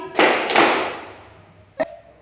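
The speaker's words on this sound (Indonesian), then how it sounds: "Tepuk tangan 2 kali." Two sharp hand claps land close together near the start, with a third quick clap a moment later, up close in a quiet classroom exercise.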